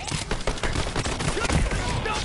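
Rapid gunfire in Borderlands 3, a dense, continuous fusillade of loud shots and bursts that keeps going for the whole stretch with little pause, while a voice talks faintly underneath.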